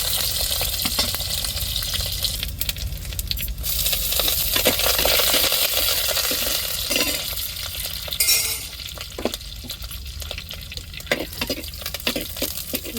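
Small onions fry in hot oil as tempering for an egg curry, a continuous sizzle joined by scraping stirs and clinks of a spoon against the pan.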